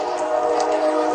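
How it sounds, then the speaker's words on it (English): A train rolls past at very close range, a steady loud rumble and rattle of rail cars with a faint whistle-like tone on top, continuous and without voices. "Can you imagine living that close to a train every day?"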